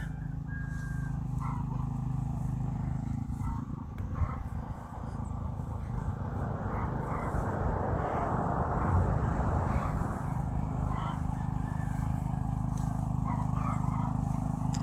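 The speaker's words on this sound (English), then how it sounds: "My husband is rototillering an area so we can start planting some stuff." A rototiller's small engine drones outdoors on a farm for the whole stretch, loud and continuous with a low mechanical churn.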